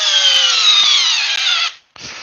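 A Hercules cordless drill with a 4 amp-hour battery whines at high speed for under two seconds, loud and close, then cuts off and briefly spins up again.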